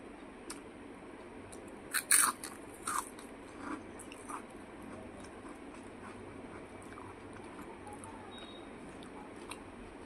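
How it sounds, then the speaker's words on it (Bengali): Raw onion bitten and crunched, with a few sharp crisp bites close up around the middle, then quieter chewing over a steady low background hum. "আমি খাই কাঁচা পেঁয়াজটা স্যালাড হিসাবেও খাই"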